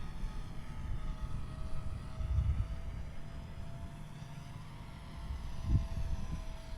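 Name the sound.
Rage R/C Taylorcraft micro RC airplane flying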